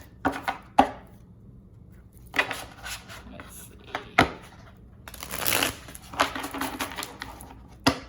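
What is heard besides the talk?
shuffling tarot cards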